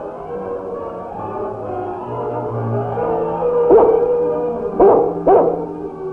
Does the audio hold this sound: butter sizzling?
no